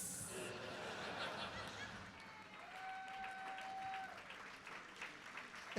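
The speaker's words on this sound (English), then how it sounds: "That's what you guys clap at." An audience at a stand-up comedy show claps faintly and at a distance in a quiet, diffuse wash, with scattered chuckles mixed in.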